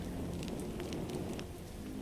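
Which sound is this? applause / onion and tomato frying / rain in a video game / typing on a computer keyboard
rain in a video game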